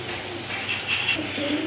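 Rajgolla pigeons give a short, close burst of soft cooing, a few throaty calls overlapping within a couple of seconds against a light indoor background, with no speech.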